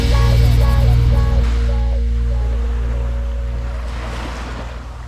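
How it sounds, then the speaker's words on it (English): Waves wash onto Bluefields Beach in Jamaica, a steady loud surf roar with some wind buffeting, gradually easing over a few seconds, with no voices. "See, we're on the beach"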